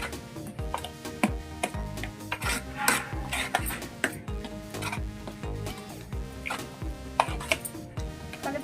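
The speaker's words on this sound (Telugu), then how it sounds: "ఇట్లా కలుపుకోవాలండి." Chili powder and salt are mixed into eggplant with a utensil, making a steady run of close, quick clicks and scrapes against the dish with no pauses and no voices.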